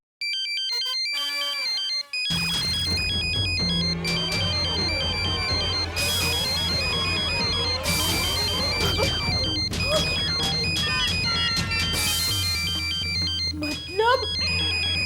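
A phone ringtone plays loudly and steadily for the whole stretch, a repeating electronic melody with some background voices and noise underneath.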